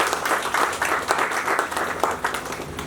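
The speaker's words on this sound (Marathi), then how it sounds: "आत्मीयतेसाठी एकदा जोरदार टाळ्या तुमच्या स्वतः" An audience at a Marathi book launch bursts into continuous, dense applause, many hands clapping loudly and evenly for the whole stretch, with no voice standing out.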